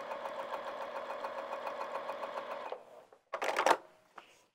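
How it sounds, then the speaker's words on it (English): A sewing machine stitches a bag seam in a fast, even run of needle strokes for about three seconds, then stops; fabric rustles and shifts close by afterward. "You can sew right on that line you sewed earlier or just beside it."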